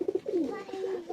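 Oman 128 pigeons, a pair, give a short burst of low rolling coos that slide and waver, close by at moderate volume.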